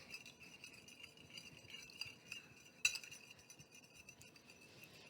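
A small utensil stirring purple colour drops in a mixing cup: faint, steady clinks and light scraping against the cup, with one sharper tap partway through, heard alone in a quiet room.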